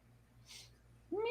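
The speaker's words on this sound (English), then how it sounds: "if you hear like meowing in the background, we got 2 5-week-old kittens yesterday" A single high-pitched meow from a five-week-old kitten rises sharply at the end, preceded by a faint hiss over a quiet background hum.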